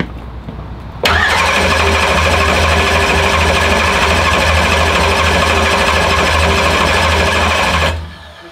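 After a brief idle hum, a car engine being readied for a dyno cranks and fires, then runs at a loud, steady, rough idle close by for about seven seconds before cutting off.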